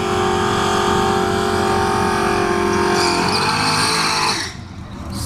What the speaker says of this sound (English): So nitrous, Boss 302 Mustang, Fox body. Yeah, this bad boy here moves though.